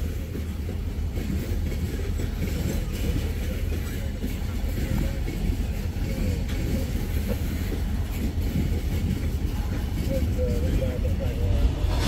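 Loaded freight tank cars of a Wheeling & Lake Erie train roll steadily past at close range, a continuous low rumble with faint wheel clatter that holds throughout.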